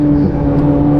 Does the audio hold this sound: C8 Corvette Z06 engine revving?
yes